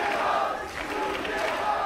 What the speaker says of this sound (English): A lot of people here make a lot of noise.